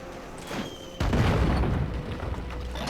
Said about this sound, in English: We take the bomb and blow up the barrier